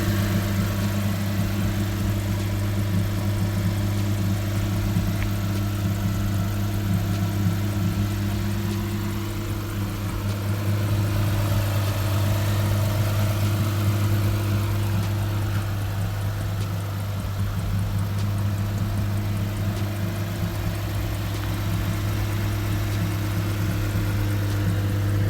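A 2008 Lexus IS250 engine idles steadily after starting, a low, even hum holding constant for about twenty-five seconds with no talking.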